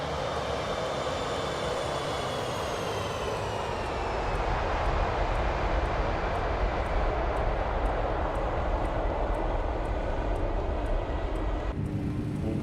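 Airliner engines roaring through the takeoff climb in a flight simulator game, a loud, steady broadband roar with a faint whine rising slightly, sustained without talk until it cuts off near the end.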